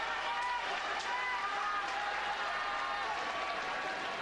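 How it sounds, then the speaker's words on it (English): Noisy sumo crowd in the Kokugikan arena applauding and cheering after a bout, a steady dense wash of clapping and voices sustained throughout. "Noisy crowd here in the Kokugikan this time."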